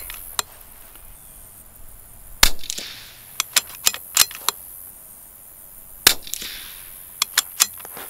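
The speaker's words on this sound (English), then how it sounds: "we're gonna fire two shots" A .22LR rifle fitted with an EC tuner fires outdoors, with distant sharp cracks at about 2.4 and 6.1 seconds among several smaller clicks and ticks over a quiet background.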